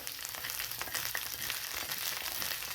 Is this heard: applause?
no